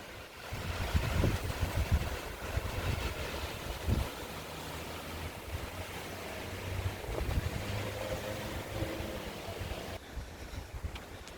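Gusty outdoor wind rumbles across a garden microphone, swelling and easing in broad low buffets with no talk.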